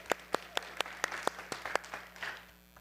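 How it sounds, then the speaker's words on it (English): At a Friday evening Shabbat service celebrating a B'nai Mitzvah, a few people in the congregation clap in distinct, fairly regular claps that fade out near the end, sounding sparse and somewhat distant. "Big round of applause for the two of them"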